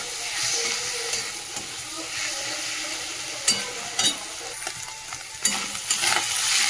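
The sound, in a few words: frying onions and garlic in fish oil, adding potatoes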